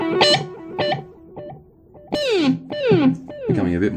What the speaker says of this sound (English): And standard echo.